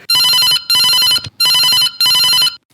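A telephone rings during a radio phone-in farm programme, four loud double-burst electronic rings in a steady rhythm with short gaps between them, close and clear.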